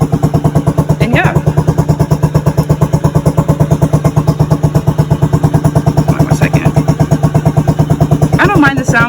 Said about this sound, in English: let your bike idle